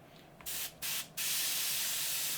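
An airbrush spraying thick paint hisses in short bursts, then runs in a long continuous spray, close and loud, with a rough, strained airflow and no talking.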